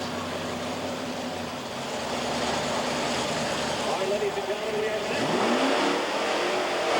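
A Bigfoot monster truck engine growls and revs loudly at an arena event, building toward a rising rev near the end, mixed with crowd and announcer noise.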